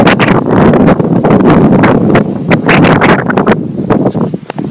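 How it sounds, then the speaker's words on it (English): Strong wind buffets the microphone outdoors at a farm house, a loud, continuous roaring rumble with gusty surges and rustling, no voices heard. "that wind is intense"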